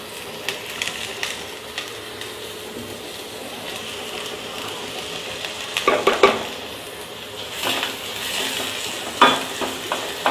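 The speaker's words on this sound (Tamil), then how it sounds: "வெங்காயம் வதங்கட்டும்." Small onions sauté in hot oil for a Tamil spinach kadaiyal, giving a steady close sizzle broken by a few louder stirring clatters near the middle and end.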